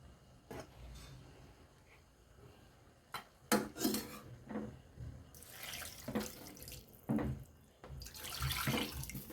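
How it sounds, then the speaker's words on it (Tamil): Water poured into a pot of sautéed rice and dal, heard as close intermittent gushes and splashes mixed with clinks of metal cookware and utensils, with quiet gaps in between. "நான் இப்போ வந்து தண்ணியை ஊற்றிக்கிறேன்"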